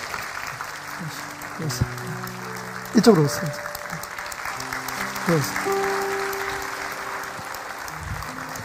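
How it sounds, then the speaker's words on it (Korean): A church congregation stands and applauds during a Sunday worship service as a retiring elder is called to the platform for a retirement ceremony; steady clapping fills the room with a louder burst midway, while someone speaks briefly over it. "여러분 이럴 때는 일어나셔서 박수 치시는 게 맞습니다"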